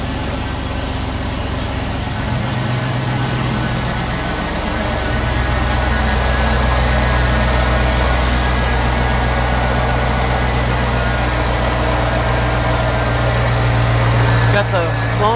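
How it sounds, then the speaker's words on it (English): A 2005 Chevy Tahoe Joe Gibbs Special Edition with long-tube headers idles while warming up, giving a close, steady, deep engine rumble that holds throughout and swells slightly after a few seconds. "we're going to go ahead and start this thing up. Take it for a little test drive. Gotta let it warm up for a few minutes."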